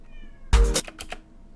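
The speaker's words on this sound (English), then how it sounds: "If you guys hear a cat, it's a needy cat" A cat gives a single short meow indoors, preceded by a sharp knock-like thump and followed by a few light clicks, with no talking.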